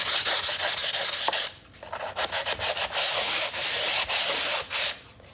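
Painted thrifted furniture sanded by hand to distress it, close rhythmic rasping strokes with brief pauses between passes.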